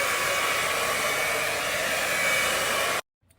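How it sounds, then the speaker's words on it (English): A hair dryer blows continuously at close range with a loud, steady whoosh for about three seconds, then cuts off into near silence. "So I'm gonna use my blow dryer and I'm just gonna blow dry my hair out."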